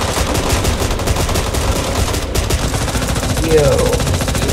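Rapid gunfire rattles continuously in Back 4 Blood, loud and close, layered with game effects while a player briefly speaks.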